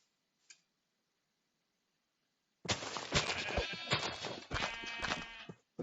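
Sheep and a little lamb bleating in the Minecraft-style game Hungry World, a single short call at first, then a loud, dense burst of layered bleats and clicks lasting a few seconds.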